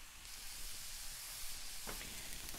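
Mushrooms and spices cooking in a pan, a faint steady sizzle and hiss with a couple of light stirring scrapes near the end.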